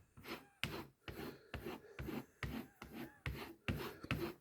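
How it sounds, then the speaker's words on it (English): A serrated kitchen knife drawn along a piece of leather to strip off the burr, about ten short, even rasping strokes in a steady rhythm, close and quiet, with no talking. "The thing I like about the piece of leather that it seems like it goes into the serrations a lot more and drags any of that burr out"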